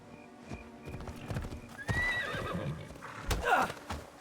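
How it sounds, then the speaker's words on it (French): A horse in Assassin's Creed Shadows whinnies over clip-clopping hooves and scattered game sounds, the neigh rising in the middle and trailing off near the end. "Viens là, le cheval."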